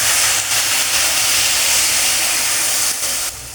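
Water hits a hot pan for a vegetable and soybean soup, giving a loud, close, continuous steam hiss that holds steady and eases slightly near the end.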